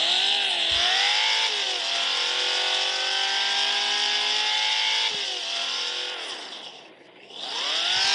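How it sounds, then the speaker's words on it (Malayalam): A video-game car engine revs and holds a high, buzzing whine, pitch sliding down and up between revs with a brief dip near the end, loud and close with no talk. "ഞാൻ എന്തായാലും നിങ്ങൾക്ക് ഈ വണ്ടീൻ്റെ സൗണ്ടൊക്കെ എങ്ങനെ ഉണ്ടോ ഒന്ന് കേൾപ്പിച്ചു തരാം"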